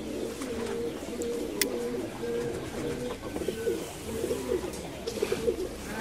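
Pigeons cooing steadily in overlapping low, throaty phrases at the loft of a renowned breeder of show pigeons in Krokos, Kozani, Greece, with a few faint chirps and clatters in the background.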